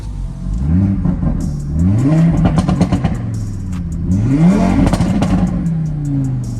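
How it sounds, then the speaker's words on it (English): An Audi RS3 engine revs hard while driving and climbs in pitch twice, loud and close, with clattering mechanical noise as it accelerates. "See, now engine's a lot louder."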